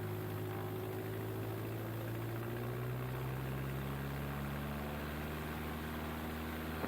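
A Grumman light aircraft's propeller engine runs at takeoff power, a steady loud drone with rising harmonic tones as the revs build, continuous and close throughout.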